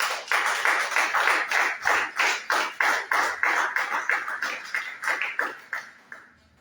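A church congregation claps in unison to acclaim the Lord, about twenty crisp, steady, evenly spaced claps that fill the room before fading out at the end, with no voices over them.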